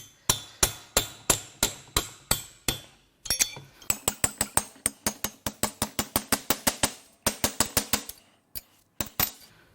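Hammer strikes on a chisel driver during a BMW N55 engine teardown, a long run of sharp metallic blows in quick regular bursts, close and loud, with short pauses between groups.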